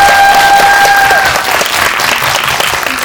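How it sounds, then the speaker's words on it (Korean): Audience applause for an actor at a CGV Yongsan film screening Q&A, steady dense clapping filling the hall for the full stretch, with faint tonal feedback ringing early on and no talking. "배우님께 박수 한번"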